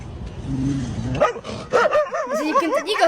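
A dachshund lets out a few sharp, high yips and whiny barks close by, following a stretch of low rumbling background noise.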